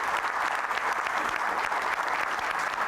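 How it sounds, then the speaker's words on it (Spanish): A crowd applauds steadily for an army commander at a presidential event, a dense wash of clapping that holds at an even level throughout. "Vamos a darle un aplauso al comandante del ejército"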